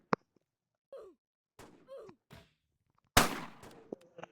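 Gunfire in a shooter video game, with several short sharp shots spaced apart and a loud, broad blast near the end trailing into a ringing decay.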